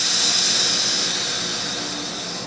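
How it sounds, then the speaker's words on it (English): A loud, steady hiss of air rushes from the pressure release valve of a beer keg being converted for soda, broad and continuous and fading slightly over a couple of seconds. "I'm going to just pull a little ring on the pressure release valve"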